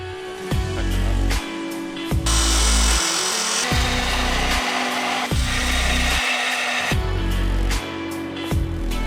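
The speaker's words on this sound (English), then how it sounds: "a plasma cutter has been an absolute godsend. It allows me to make straight cuts without having to sit there and use a grinder" Plasma cutter cutting sheet metal for a 4WD tray build, loud hissing cut bursts separated by brief pauses with sharp starts and stops, close and harsh, no talk.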